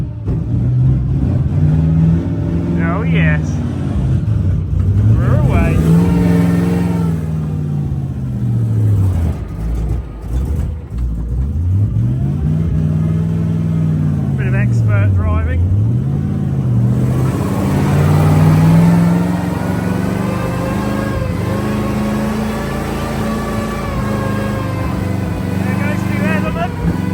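An Alvis Stalwart military truck engine runs loud and close on a freezing day, with its pitch rising and falling in repeated swells as it pulls away, and voices are heard over it.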